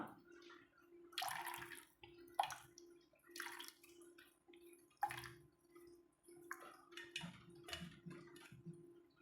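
Thick coconut milk is squeezed by hand from grated coconut, giving quiet, intermittent wet squelches and dripping splashes in short bursts against near silence.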